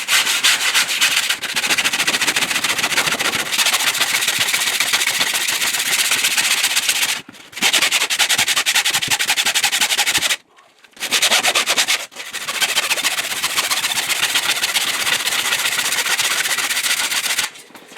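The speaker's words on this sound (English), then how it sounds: "I'm going to just give this a hand sand on just on a sanding block, just to get any edges and undulations off it" A sanding block is rubbed by hand over a sailboat tender rib in a continuous, loud, close rasping scrape, broken by two brief pauses before the steady sanding resumes.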